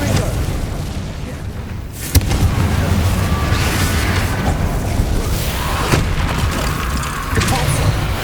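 A Confringo blast curse spell in Hogwarts Legacy on PS5, a loud booming burst with a sharp crack partway through over dense, continuous combat noise, and a voice calling out spells.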